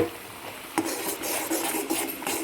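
Semolina being stirred into a thick dough in a pot for rava kolukattai, with repeated scraping strokes and clacks of a spoon against the pot, close and fairly loud, with no talk.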